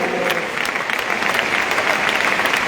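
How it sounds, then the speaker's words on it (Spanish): A church congregation at a district convention's afternoon service claps together in a loud, dense, continuous burst of applause heard up close, with no speech over it. "Dele ese aplauso a él"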